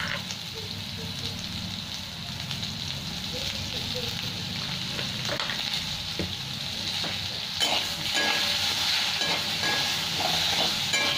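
Fish curry ingredients with salt and turmeric frying in a pan for Bengali maacher jhol, a steady close sizzle with occasional stirring clinks throughout.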